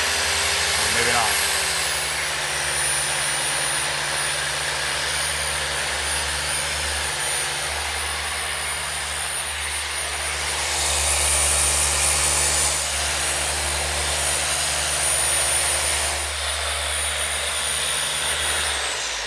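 Dual action car polisher running at full speed during a paint decontamination test, a steady loud whining drone with a constant high tone that holds for the whole stretch, with slight swells in intensity.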